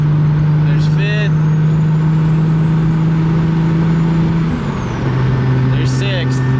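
A Toyota MK3 Supra pulls steadily through the gears, its engine drone holding a constant pitch before dropping briefly at a shift around the five-second mark, then settling again; loud and close, heard from inside the car with no talk.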